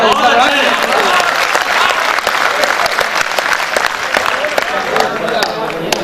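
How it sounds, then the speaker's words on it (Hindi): Loud, dense applause from a large audience at an Indore mushaira in 2014, many hands clapping steadily for several seconds close to the microphone, with a bit of crowd murmur blended in. "अगर बात अच्छी लग जाए तो एक बार ताली हो जाए"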